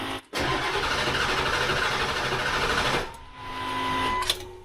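A Ford 7.3L diesel engine turning over on its starter: loud, rapid, rhythmic cranking that runs for about three seconds, drops briefly, then resumes more softly, with no talk.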